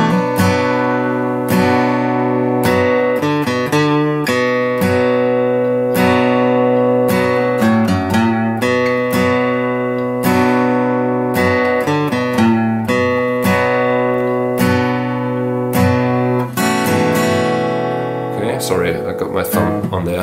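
An acoustic guitar plays the intro of a song, with ringing chords struck in rhythmic strums and arpeggiated notes, clear and close, played alone.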